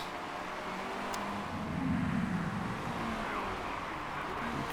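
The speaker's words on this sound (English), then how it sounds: "Bunch of cars coming into the pits." Race cars in the Motorsport Manager video game pull into the pits at the Doha circuit, a steady engine drone that swells briefly and then settles, fairly faint.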